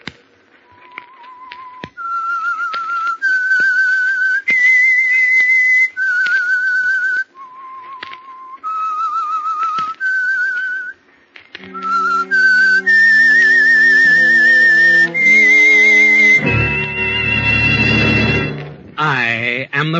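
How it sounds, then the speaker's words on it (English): The whistled theme of the radio mystery show The Whistler, a lone eerie melody of sustained, sliding notes that is then picked up by orchestral music with rising strings and brass. "That whistle is your signal for the Signal Oil Program"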